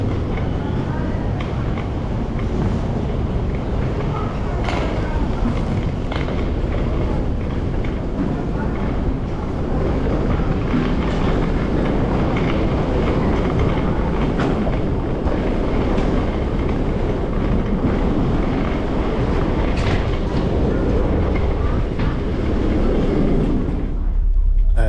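A train rumbles steadily along the rails in Malaysia, loud and continuous, with faint rhythmic clatter underneath.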